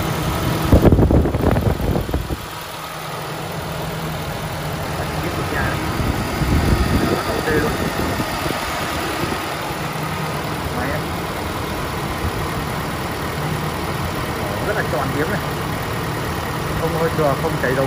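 A 2007 Toyota Innova G engine idles in a smooth, constant drone close by, while someone talks over it throughout, with a brief louder knock near the start.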